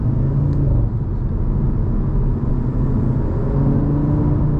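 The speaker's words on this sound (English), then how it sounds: "So we're just accelerating normally." A 2024 Audi RS3 accelerating normally through second and third gear, with a steady, moderately loud engine rumble and road noise from inside the cabin, without strong revving peaks.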